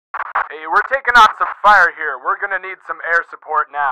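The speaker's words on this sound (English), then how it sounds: "I added some pink noise in the middle of what he was saying to kind of break it up." Radio transmission of a soldier calling for air support under fire, the voice broken up mid-sentence by bursts of added pink noise, giving a close, choppy, crackling effect.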